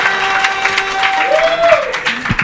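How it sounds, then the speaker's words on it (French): Studio audience applause rings out on a French-language talk show, steady and fairly loud, mixed with a sustained tone and a brief gliding sound. "un tonnerre d'applaudissements pour ces douches"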